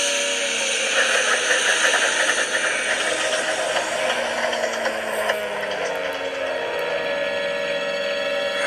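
A coal-fired steam train engine leaves a station as an audio drama effect, a loud, steady mechanical rumble with rhythmic chuffing pulses that settles into an even drone, with no voices.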